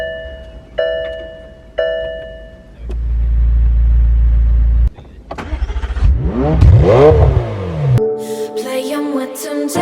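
McLaren 720S supercar engine starting and then accelerating, a loud close rumble that climbs in rising sweeps as the revs build, with a chime before it and music coming in at the end.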